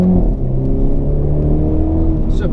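Engine of a 2019/2020 BMW Z4 sDrive30i M Sport roadster pulling steadily under acceleration, a loud, close, continuous drone with rising harmonics and no talk over it.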